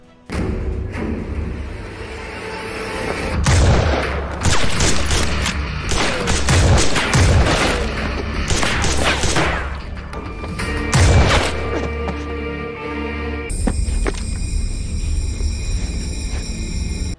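A long burst of heavy gunfire and loud thuds from a film gunfight, shots crackling in dense volleys with booming impacts, then a quieter ringing tail at the end.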